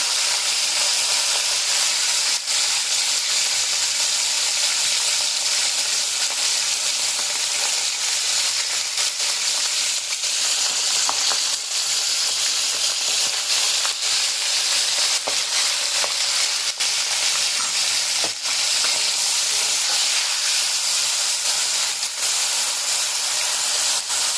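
Dried fish fries in hot oil for a brinjal curry, giving a loud, even, unbroken sizzle and hiss with occasional faint stirring clicks and no speech.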